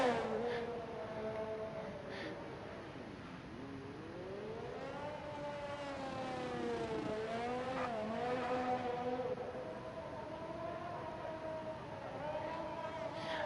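Race cars in a sim racing game at the Azerbaijan Grand Prix, several engine notes rising and falling in overlapping sweeps at a steady, moderate level throughout.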